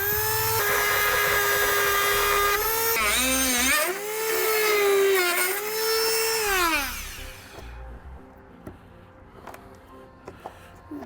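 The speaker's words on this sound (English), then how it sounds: "Now we can take our rotary tool and we'll just cut out" Rotary tool cuts into the plastic bumper of a 2015 Jeep Cherokee with a loud, high-pitched whine that rises and dips in pitch as it bites and slows, then winds down, followed by scattered small knocks.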